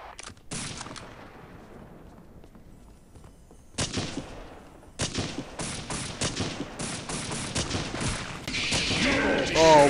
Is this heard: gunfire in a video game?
yes